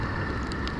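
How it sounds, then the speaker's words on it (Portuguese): Steady rain falls on the São Paulo coast, a dense even hiss with a few sharper drop patters, close and continuous throughout the short moment. "Agora pouco tava sol, agora já tá chovendo de novo."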